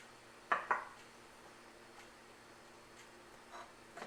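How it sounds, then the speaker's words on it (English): A plate and boiled rock set down onto pickles in brine give two close, hard ceramic clinks, followed by faint small knocks in an otherwise quiet kitchen. "here comes the plate and my boiled rock"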